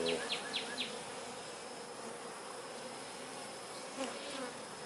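Honeybees buzz steadily during a hive inspection with brace comb between frames. A dense, close drone continues throughout, with a few brief higher-pitched whines from individual bees passing near, and no talking.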